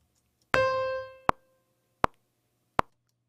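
A single short eighth note rings out and fades quickly, followed by three soft, evenly spaced clicks like a metronome ticking.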